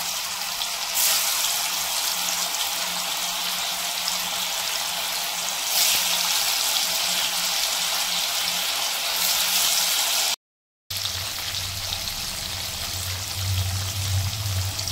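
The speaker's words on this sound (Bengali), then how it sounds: "পনিরটাকে ছেড়ে দেব তেলের মধ্যে" Paneer sizzles steadily in hot refined white oil with a little salt, a constant loud crackling hiss that runs almost without a break, cutting out for a moment near the end and then returning with a deeper rumble underneath.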